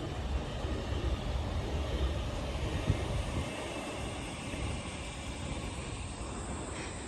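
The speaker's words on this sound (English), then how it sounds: "there's another train." A train passing nearby in the Clayfield suburb of Brisbane, Queensland, a broad continuous rumble and roar heard outdoors from the street, steady and fairly loud throughout with no talking.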